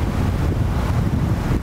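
Steady, even wind rushing past the open windows of a Lexus LC500 convertible on the move, a dense low roar with no buffeting throughout, loud and close with no talking.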